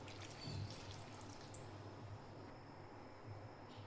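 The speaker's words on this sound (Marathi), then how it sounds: "अर्धा ग्लास पाणी टाकायचे." Half a glass of water poured into a mixer jar over paneer and cumin for spinach thalipeeth batter, a soft steady trickle with faint splashes at moderate distance, no talking.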